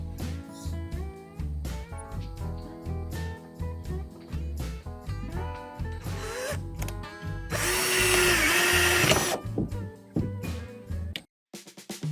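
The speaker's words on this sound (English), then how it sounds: "Let's see if I can get this one screwed in." A power drill drives a screw into the door of an outdoor kitchen, whirring in repeated bursts that rise and fall in pitch, then grinds loudly for a couple of seconds before stopping abruptly, close by.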